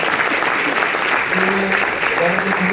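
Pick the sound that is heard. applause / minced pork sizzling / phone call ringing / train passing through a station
applause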